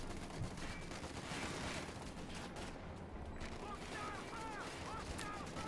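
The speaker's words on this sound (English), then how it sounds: "this Vickers should probably be able to shoot them out eventually." Vickers machine gun fire in the video game Company of Heroes 2 crackles in dense bursts under a busy battle mix, with rumbling effects and faint whistling tones toward the end.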